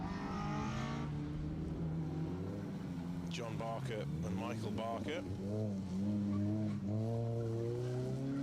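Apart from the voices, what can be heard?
rally car, R50 Mini, racing past on stage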